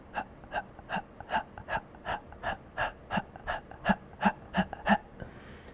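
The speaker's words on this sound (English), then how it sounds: "Let's work with staccato breath. It means very sharp and pointed." A singer does a staccato breathing exercise, pushing out about fifteen sharp, pulsed breaths in a steady, even rhythm, close and fairly quiet with no speech.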